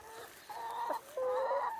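Chickens in a chicken tractor on a permaculture eco community farm cluck close by, with a short run of tonal calls, a brief pause, then louder, sustained clucking with no talk.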